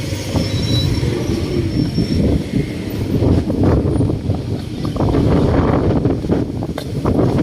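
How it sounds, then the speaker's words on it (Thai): Strong afternoon wind buffeting the microphone outdoors on a walk near Sanam Chai in Bangkok, a loud, continuous low roar and rumble with gusty swells throughout. "ลมแรงมากเลยนะฮะบ่ายๆแบบนี้นะฮะ"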